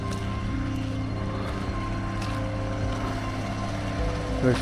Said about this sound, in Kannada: ದೋಣಿ ಹೋಗ್ತಾ ಇದೆ.